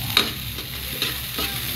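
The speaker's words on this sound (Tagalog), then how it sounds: "Ato lang siya igisa-gisa gamay." A brief burst of sautéing for sweet and sour eggs, steady loud sizzling with soft stirring scrapes in the pan, no talk.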